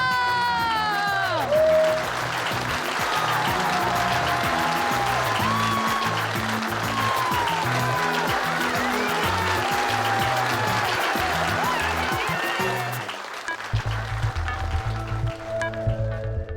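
Studio audience clapping for the winning couples on a TV show stage, a sustained wash of applause that runs for many seconds with tonal music and bright sweeps over it, then tapers into music alone near the end.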